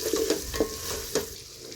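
A spice mixture for biryani fries in a pan under quick stirring, with a few short scraping strokes over a close, steady sizzle.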